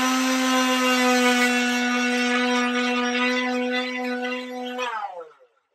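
Power sander grinding on a plastic toy blaster with sanding paper, a steady high-pitched whine holding for about five seconds before spinning down and stopping.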